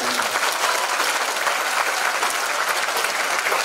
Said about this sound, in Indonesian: saya tepuk tangan dulu